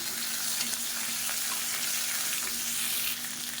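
Onion and garlic sautéing in a pan for a karpooravalli thovayal, giving a steady, close sizzle and crackle with a faint low hum beneath, unbroken and without speech.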